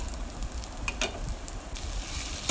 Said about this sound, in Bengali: এই যে সিদ্ধ করে রাখা শাকটা দিয়ে দিয়েছি, দিয়ে ভালোভাবে নাড়াচাড়া করছি এবং এটা আমি কিছুক্ষণ ভাজি করে নিব।